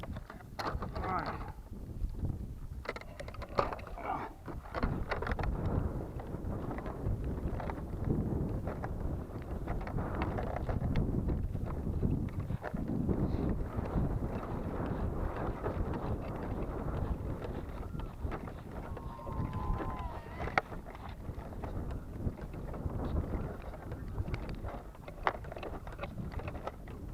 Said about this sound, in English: Should have waited for the wind to die down a bit.